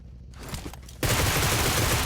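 Gunfire during a PUBG Mobile match: a few scattered shots first, then a sudden loud, continuous burst of rapid automatic fire that keeps going to the end.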